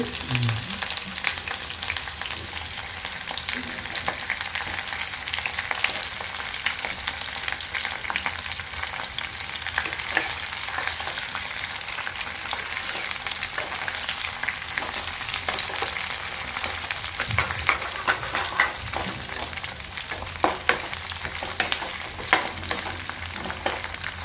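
Onion and green chili frying in a pan for a pulusu curry, a long, steady, moderately loud sizzle with scattered crackles and occasional stirring scrapes.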